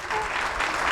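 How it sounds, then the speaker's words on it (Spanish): An audience applauds the keyboard player at a book presentation event, a dense burst of clapping from many hands, close and steady across the whole moment. "Un aplauso para él."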